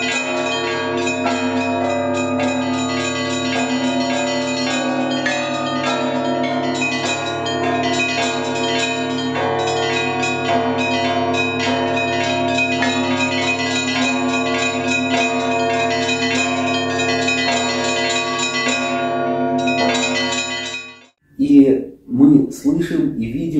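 A set of four church bells rung in a continuous interwoven pattern, loud and close, with overlapping strokes sustaining for about twenty seconds before the ringing stops abruptly.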